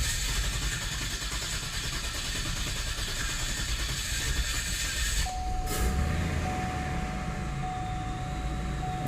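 A 2006 Cadillac STS with a 4.6L engine and check-engine and ABS faults starts up: a steady mechanical whir, then midway a sharp shift as it catches and settles into a running drone with a sustained whine.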